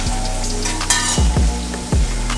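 Carrots and beef kidney sizzle steadily in a pot for a Jamaican stew, with a few sharp spoon stirs and scrapes breaking through the continuous frying hiss.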